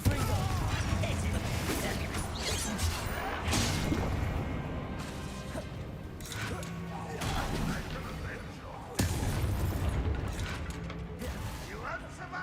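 Confringo explosive spell cast in Hogwarts Legacy combat, heard as repeated crashing blasts and whooshes amid clanking and creaking battle noise, loud and busy, with voices shouting throughout.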